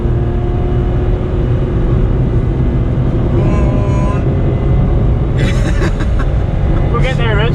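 Small Volkswagen Up hatchback accelerating hard on a race track, a loud steady engine drone with strong road and wind roar from inside the cabin, while a voice talks briefly over it.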